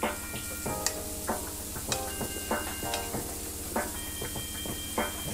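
Butter melting in a pot for cheesy grits while a spoon stirs it, giving a steady soft sizzle with repeated scraping clicks and knocks of the utensil against the pot, close and fairly quiet.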